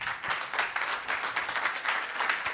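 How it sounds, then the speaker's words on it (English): An audience at a business pitch competition applauds steadily, a dense wash of many hands clapping at an even, moderate loudness with no voices standing out. "Everybody give Sally a round of applause."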